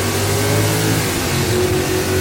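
Bruce McLaren's Can-Am race car, a 615 kg machine with 525 horsepower, on track with its engine accelerating hard, a loud continuous close-up roar filling the whole stretch.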